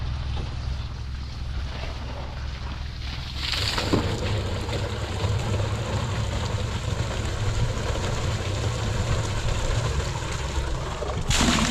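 A small motor engine runs steadily to pump water into a drum on a farm, its low droning hum rising and thickening after a few seconds and continuing with outdoor wind noise.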